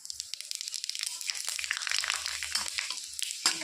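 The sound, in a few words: bay leaf, dried chilli, panch phoron frying in oil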